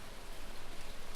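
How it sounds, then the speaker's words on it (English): Rain falls steadily in the Stardew Valley video game, a soft, even hiss of drops with no voices. "Oh, it's raining, at least I don't have to water my stuff."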